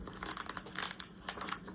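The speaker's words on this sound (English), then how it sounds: "You can tell these are very well made sprayed edges because you kind of have to crack them open." A hardcover book with sprayed edges being cracked open, giving faint close-up crinkling and crackling of stiff pages separating in a few quick bursts.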